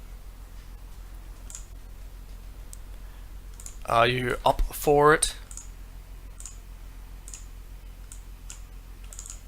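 Scattered, light clicks of typing on a computer keyboard tick steadily throughout, with a voice speaking briefly in the middle.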